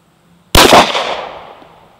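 A single sharp, loud shot from a Glock 43 firing a Hornady Critical Duty 135 grain +P FlexLock 9mm round cracks close by outdoors, then fades through a decaying echo over about a second and a half.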